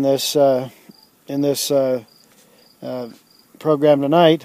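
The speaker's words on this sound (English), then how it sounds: "you may hear a bird or two, some crickets, that sort of thing" Crickets chirp outside a cabin at dusk, a faint, steady high trill that comes through in the pauses of a man's close, loud talk.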